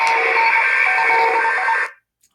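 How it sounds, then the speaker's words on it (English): Lightsaber sound font resembling an Imperial probe droid, a loud buzzing electronic hum with steady tonal layers lasting nearly two seconds, then cutting off abruptly into silence with a tiny click after. "this kind of sounds like an Imperial probe droid"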